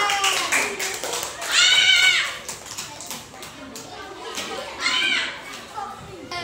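Children applaud in an elementary classroom during a maths lesson on length units, with bursts of clapping and cheering under children's voices and chatter.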